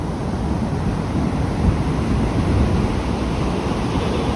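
Ocean surf rolling onto a sandy beach at Legon Pari, Sawarna, a constant loud roar of breaking waves with a slight swell midway, no voices.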